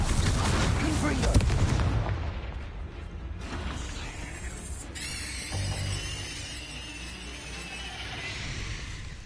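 A Confringo fire spell blasts in the video game Hogwarts Legacy, a rumbling explosive burst with crackling debris that fades into a lingering hiss, set against dense game sounds.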